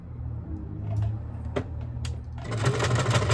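A sewing machine runs a long gathering stitch at its highest tension setting, a steady mechanical whir with a louder, faster burst of stitching near the end.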